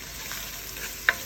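Sliced onions and shallots sauté in a pan for kalan, a steady low sizzle with a faint stir and one brief sharp clink near the end.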